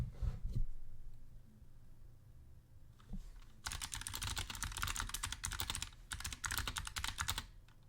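Fast typing on a Razer Huntsman Mini keyboard with light 45-gram purple switches: quiet scattered clicks at first, then a dense, steady burst of loud close-up keystrokes with a short pause partway through.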